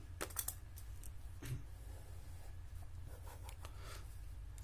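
A teacher writes on a board during a physics lesson, making faint, sparse scratching taps over quiet room tone, with no talking.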